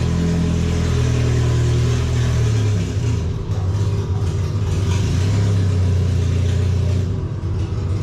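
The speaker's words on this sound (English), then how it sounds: "if you hear that chopping cam, it's just because it's an open header damned old hot rod" Old Datsun hot rod engine with an open header runs at a steady, loud, close rumble with a choppy cam note throughout, holding near-constant revs with no clear blips.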